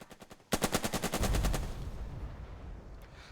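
Gunfire aimed at an 88 gun in Burden of Command: a few faint pops, then a sudden loud burst of rapid automatic shots that rattles for about a second before fading into a rumbling decay.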